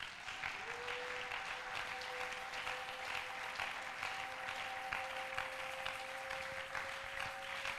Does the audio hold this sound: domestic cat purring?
no